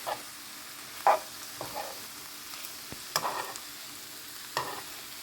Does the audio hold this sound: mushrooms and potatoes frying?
yes